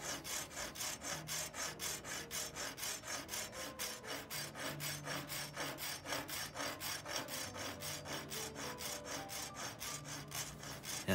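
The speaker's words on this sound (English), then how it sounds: "I'm cutting a slit here in the top, so when I put the dowel in" A hand saw cuts a slit into the top of a wooden post to take a dowel for a Japanese-style fence, making quick, even back-and-forth rasping strokes that stay close and steady throughout.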